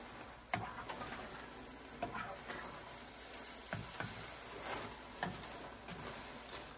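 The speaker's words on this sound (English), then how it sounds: "Give it a stir." A chicken casserole mixture in a pan, just given a tablespoon of vinegar and kept on low heat, stirred with soft scraping strokes at a steady pace over a gentle sizzle, with no voices.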